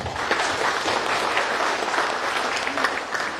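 A seated audience at a military district command competition event applauds steadily and fairly close, a continuous wash of many clapping hands with no talk over it.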